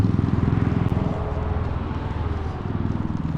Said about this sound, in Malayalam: ഓ ഹെലികോപ്റ്റർ ആദ്യമായിട്ട് ഇത്രയും അടുത്ത് കാണുന്നത്